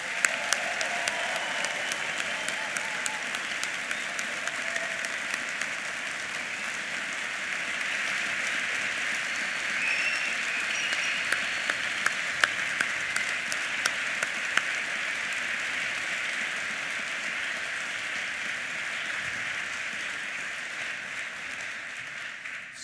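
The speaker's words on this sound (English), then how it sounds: "let's give the class of 2019 a big collective round of applause" An audience at a Faculty of Engineering graduation ceremony gives the class of 2019 sustained, even applause, a dense wash of many clapping hands that continues steadily without pause.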